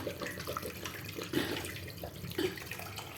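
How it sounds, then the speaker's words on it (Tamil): Water runs steadily into a cooking pot holding mutton, a continuous splashing pour at moderate level with a couple of small surges. "தண்ணி ஊற்றிட்டோம்."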